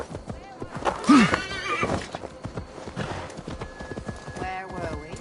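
A horse from Assassin's Creed Valhalla gives one loud, close whinny while its hooves clip-clop steadily underneath, with someone talking over the ride.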